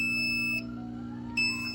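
A Kamoer ATO One 2 water level controller's overflow alarm: loud, piercing electronic beeps pulse twice, a long tone, a brief gap, then another, over a constant low mechanical hum.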